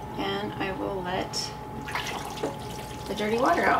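Dirty water from washing wool drains out of a sink with a continuous gurgling rush, partly under a voice talking nearby.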